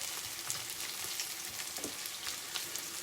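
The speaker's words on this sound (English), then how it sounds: "the onions are sauteing nicely, which is great" Onions sautéing in curry in a pan for lamb bunny chow, a steady, soft sizzle and crackle of frying with faint occasional pops, no voices.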